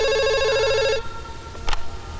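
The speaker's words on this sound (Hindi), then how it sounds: "फोन बज रहा है" A telephone rings in a closed shop with a bright, repeating electronic trill that cuts off after about a second, followed by a brief click as the handset is picked up.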